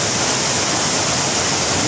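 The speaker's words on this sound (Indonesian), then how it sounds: "Saya sangat dekat sekali dengan air terjun ini" A waterfall in a Kalimantan forest, swollen after rain, roars loud and very close as a dense, steady rush of water with no break.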